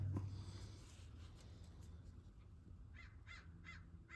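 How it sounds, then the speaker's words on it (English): Several crows caw from a distance outdoors, four evenly spaced harsh calls toward the end over a low steady background rumble. "Ooh, I can hear the crows out there."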